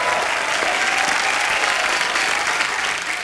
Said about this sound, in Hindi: पर राजू भाई के लिए जोरदार तालियां